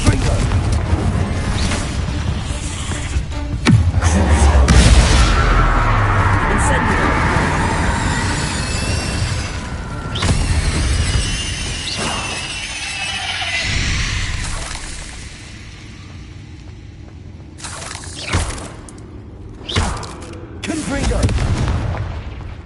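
Confringo blasting spells explode in Hogwarts Legacy, several heavy booming blasts with rumbling crashes that swell and fade, then sharper bangs toward the end, with a voice calling out spells between them.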